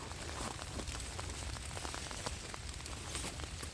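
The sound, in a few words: rain falling in a German forest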